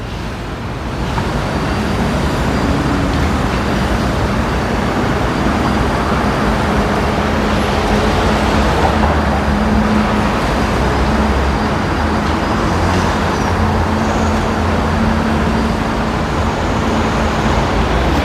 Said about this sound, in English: Let's see all the bus action over here.